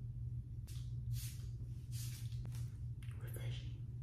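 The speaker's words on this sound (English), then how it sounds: "This setting spray." Makeup setting spray is misted in several short, soft hissing bursts, close to the microphone, with brief pauses between sprays over a quiet room hum.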